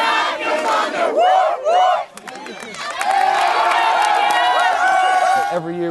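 Crowd of fans cheering and shouting at a small-town southern Iowa school football or basketball game, loud rhythmic chanted yells and then a sustained roar of many voices close by.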